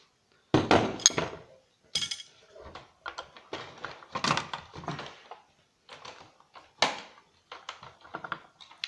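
Screws being removed from the big heatsink inside a hi-fi amplifier during a teardown, giving a run of close, sharp clicks, taps and small metallic knocks in uneven bursts with short pauses between them.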